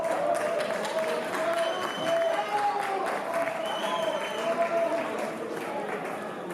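A live concert audience applauds steadily at a band's show, with crowd noise and a voice speaking over the clapping throughout.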